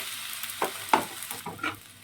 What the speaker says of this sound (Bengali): উপর থেকে একটু সাদা তেল ছড়িয়ে ভেজে নিচ্ছি।